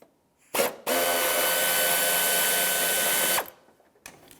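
A power tool spins out a 10mm bolt holding the coolant overflow tank on a 1997-2001 Lexus ES 300. It gives one steady mechanical whir of about three seconds, close and alone, with short clicks before and after.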